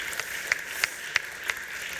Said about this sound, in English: I'm clapping for the audience.